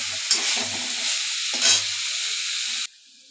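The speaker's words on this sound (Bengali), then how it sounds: "ভালো করে জলটা কষায় নেব শাকে। একটু এরকম কাদা কাদা করে দেব।" Betoa shak greens cook down in a pan, a continuous soft sizzle and hiss with a couple of stirring clatters, ending abruptly into near silence.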